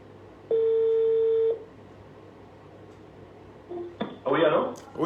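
A telephone call being placed: a single long steady tone, a pause, then a short tone and a burst of clicks and beeps as the line connects, fairly close and clear.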